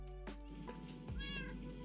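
Several Minecraft cats meow close by, with drawn-out tonal mews rising and falling over a steady low game background hum.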